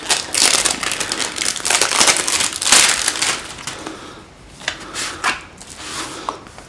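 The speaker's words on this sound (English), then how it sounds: "So let me cut the polythene wrapper here." Polythene wrapper is cut and torn open while unboxing a Freedom 251 phone, giving close, loud crinkling and crackling plastic in uneven bursts that thin out toward the end.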